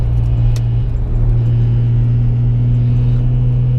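A car with traction control switched off, running a J-series J32/J37 V6 with nitrous, gives a loud, steady close engine drone with a strong low rumble and holds the same pitch for a few seconds, with no talking.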